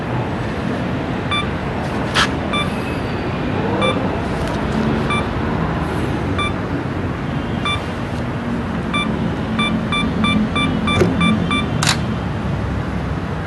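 A camera self-timer beeps during a slow-shutter shot with a Sony mirrorless body on a homemade telescope eyepiece adapter, giving faint evenly spaced beeps that speed up toward the end over steady background noise, with a couple of sharp clicks.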